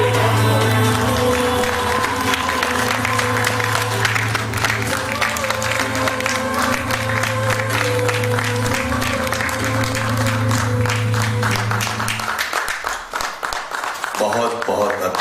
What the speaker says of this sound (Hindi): बहुत बहुत अद्भुत नाटक, जोरदार तालियां हो जाए देवी सभी।